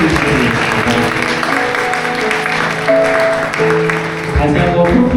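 Wedding guests clap after a groom kneels and slips the ring on the bride's finger, a steady round of applause under a loud amplified voice and music-like tones.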